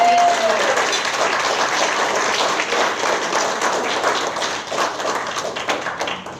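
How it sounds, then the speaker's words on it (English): Audience applause at a Rotary Club scholarship awards meeting, steady dense clapping from a roomful of people that fills the whole stretch and slowly thins toward the end, with a brief voice near the start. "we should all give him a round of applause"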